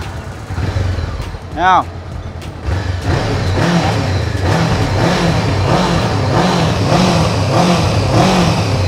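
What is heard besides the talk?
Honda CB500F motorcycle stock exhaust revving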